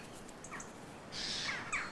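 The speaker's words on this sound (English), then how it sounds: "Jays do two vital things." A jay calls in oak woodland, a faint distant harsh screech after a few soft chirps, over steady quiet outdoor ambience.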